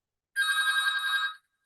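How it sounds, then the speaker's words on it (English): A telephone rings indoors, a single electronic trilling ring of about one second, clear and alone against silence. "And that's a phone."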